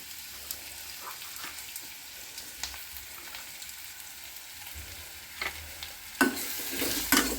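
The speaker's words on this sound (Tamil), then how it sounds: "தக்காளி நல்லா பேஸ்ட் ஆகிற வரைக்கும் நல்லா வதக்கிட்டு" Tomatoes and green chilies sautéing in a pan, a soft steady sizzle with occasional spoon taps and stirring, louder toward the end.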